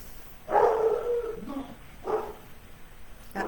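A small dog gives a couple of sharp yappy barks a short distance away, with a brief gap between them and no other sound.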